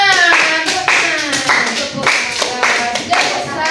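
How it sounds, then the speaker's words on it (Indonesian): A classroom of students claps together in a quick rhythmic pattern, sharp near hand claps repeated in bursts with faint voices mixed beneath. "Beri tepukan untuk kita semua."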